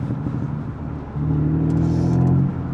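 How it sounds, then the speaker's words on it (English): A BMW 125i E88 N52 engine rumbles low, then the exhaust revs up into a louder sustained drone before easing off, close by. "my car is loud"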